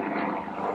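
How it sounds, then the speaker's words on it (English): A helicopter passes overhead above a backyard garden. Its rotor and engine make a steady, distant rumbling drone that fills the whole moment. "Sorry, there's a helicopter."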